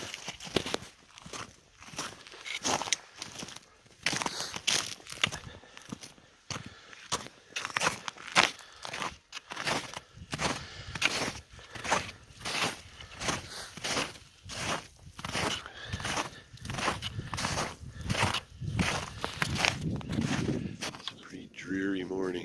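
Footsteps crunch along a trail on a dreary morning hike from a campsite, steady and close, with a person talking over the walking at times.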